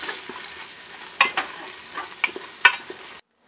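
Green chillies frying in a pan for chicken biryani crackle softly while a spoon stirs them, a few sharp scraping taps over a low sizzle, close and with no talking.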